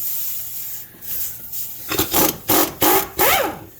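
An impact wrench works on the wheel bearing bolts of a 2008 Chrysler Town and Country. After a quieter rasping lead-in, it fires four short, loud, close bursts in quick succession.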